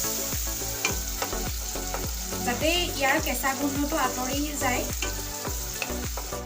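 Tomatoes frying in oil in a wok, a steady sizzle punctuated by regular scraping and knocking strokes of a spatula stirring, with a person speaking over the cooking.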